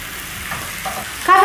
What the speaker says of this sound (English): Listen to that sizzling.